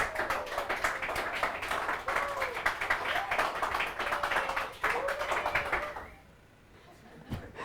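A lecture-hall class claps in a dense, rapid patter for about six seconds beneath a voice, then the clapping drops away to near quiet with a last stray clap.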